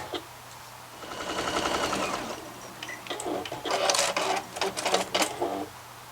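A sewing machine stitches close to the edge to hold a nose piece in a fabric face mask, with a short whirring run followed by a stuttering burst of rapid mechanical stitching, close up.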